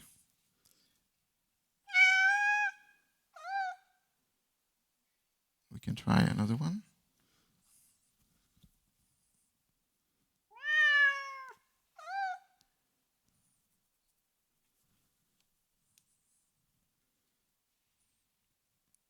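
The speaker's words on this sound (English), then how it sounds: "I pick up some sound in my cat library, and I try until I found the one that matched best" Library cat meow effects play one after another: two pairs of clear, close meows separated by silence, with a brief spoken line between them.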